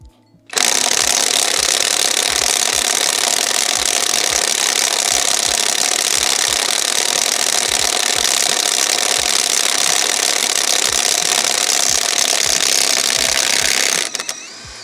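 A Parkside Performance PPDSSA 12 A1 cordless impact wrench runs on nuts for about 13 seconds. It makes a loud, steady mechanical roar with a rapid hammering pulse, then stops abruptly.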